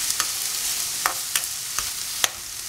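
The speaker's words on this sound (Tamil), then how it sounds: "வெங்காயம் வதங்கட்டும்." Onions sautéing in a pan for egg kothu parotta give a close, steady sizzle, punctuated by regular sharp spatula taps and scrapes against the metal.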